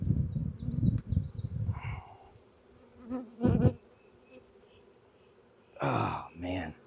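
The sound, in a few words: honeybees buzzing around an opened hive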